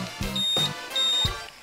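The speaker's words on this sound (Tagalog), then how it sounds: "kung ano yung preferred mo na alarm buzzer pattern na gusto mong gamitin" Honda Click 150i scooter alarm buzzer sounding in a pattern of about three pulsed bursts, each with a bright steady tone over a low buzzing thump, fairly close and alone.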